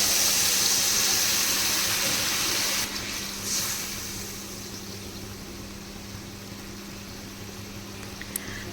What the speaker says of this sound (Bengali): এবার আলুটা শুদ্ধ হওয়ার জন্য জল দিয়ে দেবো